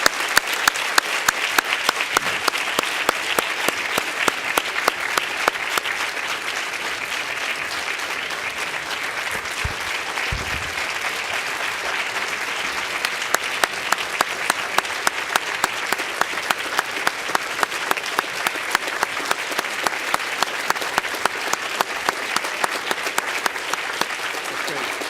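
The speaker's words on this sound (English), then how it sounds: "I think we need a round of applause for all our speakers in the panel today" A panel discussion audience applauding its speakers, a dense, steady wash of clapping that holds for the whole stretch with a few louder individual claps standing out, fairly loud and continuous.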